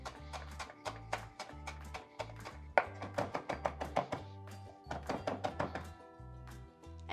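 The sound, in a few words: chopping cilantro with a knife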